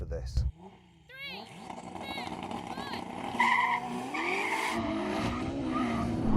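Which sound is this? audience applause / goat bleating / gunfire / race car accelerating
race car accelerating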